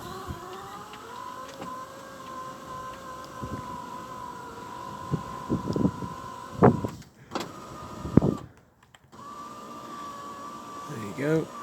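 An electric sunroof motor in a Toyota Granvia van hums in a steady, faint whine for several seconds, with a few clicks and knocks. The motor stops and then resumes briefly.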